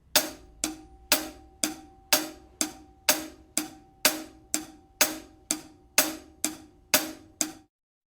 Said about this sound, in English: The hi-hat's the glue that holds the beat together and is a constant stream of eighth notes and looks like this.